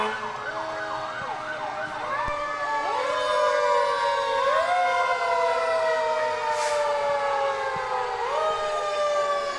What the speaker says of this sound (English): That's called a pumper truck, John.